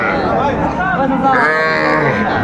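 A young calf moos loudly and close by at a market selling small calves, one long, drawn-out bellow that fills the whole moment with no talk over it.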